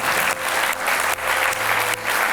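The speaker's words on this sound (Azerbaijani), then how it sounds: "Özümüzü alqışlayırıq." An audience applauds at an Azerbaijani comedy show, loud and close, in dense clapping bursts with brief dips between them and no speech over it.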